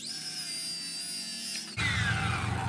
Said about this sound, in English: So now we're just going to cut out that little section right there. The old Ryobi circular saw.